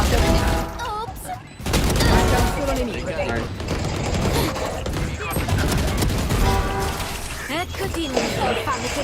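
Gunfire in the video game Valorant: loud, dense bursts of weapon fire and impacts run almost nonstop, mixed with other game sounds while a player talks over them.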